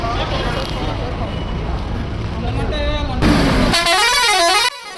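A Volvo air horn fitted to a Mahindra Bolero with its own separate air tank blares loud and sustained, the tone shifting and wavering as it sounds for several seconds near the loaded truck.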